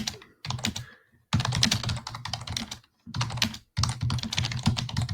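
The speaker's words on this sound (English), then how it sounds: "I'm just typing in the chat here" Computer keyboard typing in quick bursts of close, crisp key clicks, broken by short pauses between runs of keystrokes, with no talking.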